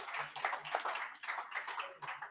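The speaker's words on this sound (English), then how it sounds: "Let's give Andy a round of applause." A small audience at a live reunion event for Brisbane Survivor gives Andy a round of applause as he comes up, the clapping fairly quiet and loose, with scattered individual claps rising and falling over a couple of seconds.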